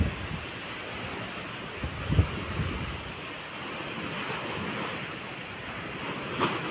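Big sea waves surge and wash amid wind noise, a steady, moderately faint roar with a couple of brief louder knocks.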